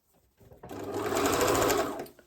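A sewing machine with stitch length set to 1.5 stitches along the edge of fabric for a padded sleeve, running in one steady burst under two seconds long, fairly quiet and heard alone.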